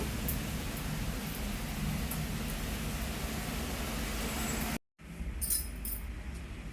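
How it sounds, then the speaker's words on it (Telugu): Heavy rain pours down outside a house, a steady broadband hiss that fills the whole clip, broken by a brief dropout near the end before resuming. "చాలా పెద్ద వర్షం పడుతుంది."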